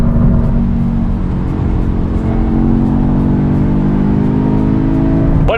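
A 2023 Audi S3 with the EA888 turbocharged engine accelerating, a loud steady engine drone with rising harmonics heard from inside the car, no talk.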